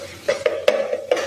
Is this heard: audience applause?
no